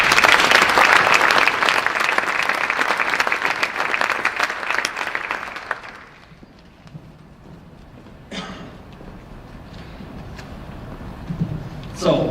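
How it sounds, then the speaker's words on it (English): An audience at a school awards event applauds loudly for about six seconds, then the clapping fades into quiet room tone broken by a few faint sounds and rustles. "let's give them one more round of applause."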